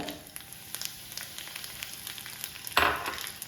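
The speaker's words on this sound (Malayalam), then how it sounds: "എണ്ണ ചൂടായി, കടുകിടുക. അതിന് ശേഷം ഒരു ലേശം ജീരകം കേട്ടോ." Mustard seeds and cumin crackling in hot oil for a Karnataka dish, rapid small pops over a soft hiss, ending in a louder burst of spluttering.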